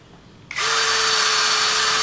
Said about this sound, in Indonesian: di sini kita coba dengan mata bor kipas ya di 19 mili